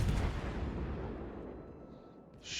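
A tank cannon in World of Tanks fires an armor-piercing shell, a heavy booming blast that decays into a long low rumble, loud and alone.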